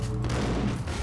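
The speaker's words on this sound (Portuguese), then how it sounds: "olha esse tiro de escopeta" Heavy gunfire from a shotgun in the Max Payne video game, a loud, dense burst of blasts that fills the short moment with booming low rumble and no talk over it.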